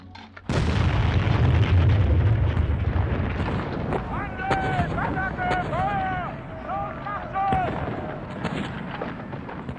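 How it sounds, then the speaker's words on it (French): A gigantic mine packed with tons of explosives detonates in a tunnel beneath enemy lines at the Battle of the Somme in 1916, a sudden loud deep blast followed by a long rolling rumble, with wavering voice-like tones midway. "Et se renouvellent ces explosions gigantesques, au bout de galeries creusées sous la ligne ennemie, bourrées de tonnes d'explosifs."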